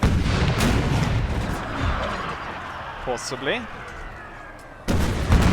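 Cannon artillery firing in an American Civil War strategy video game, deep booming blasts opening and closing the stretch with rumbling battle noise between, and someone speaks briefly.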